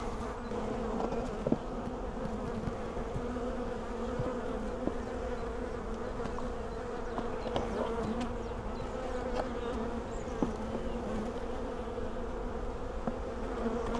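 Honey bees buzz steadily inside a hive during an inspection, a dense continuous drone with scattered small clicks and knocks close by.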